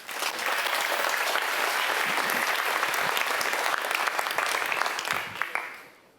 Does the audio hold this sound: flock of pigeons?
no